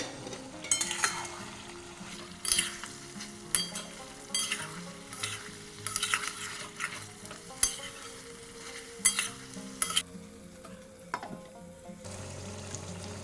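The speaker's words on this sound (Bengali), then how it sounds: "কাজু পোস্ত কাঁচা লঙ্কা বাটাটা এবারে দিয়ে দেব এটাও আবার দু তিন মিনিট একটু কষে নেবো" Chicken being sautéed and stirred in a pan with a cashew, poppy seed and green chilli paste, giving a steady close sizzle broken by repeated louder scraping stirs, with no talking.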